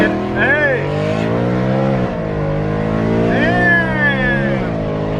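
A car cruising and accelerating on a drive to 412, its engine note rising and falling in smooth sweeps close by, with people talking over the motor throughout.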